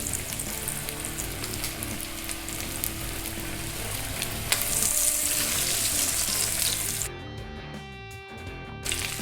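Scotch eggs frying in a pan of hot oil, the larger ones added first, giving a constant close sizzle and bubbling that thins and drops away near the end.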